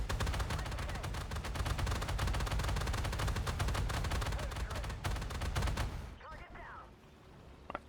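Rapid autocannon fire from a Flakpanzer Gepard anti-aircraft vehicle in a tank game rattles on in a long, dense burst for about six seconds, shooting at an enemy tank, then stops abruptly and leaves quieter background sound.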